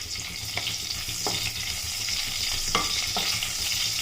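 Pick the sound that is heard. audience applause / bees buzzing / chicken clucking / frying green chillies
frying green chillies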